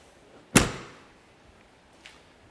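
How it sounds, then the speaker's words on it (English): A Peterbilt truck door slams shut once, a sharp loud thud with a brief ringing decay, followed by a faint small knock a moment later. "let's shut this door on here."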